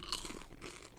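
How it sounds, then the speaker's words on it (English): Crunchy caramel snacks being bitten and chewed up close, giving a dense run of crisp crunching bursts over about a second with no talking. "They're just so crunchy and caramely."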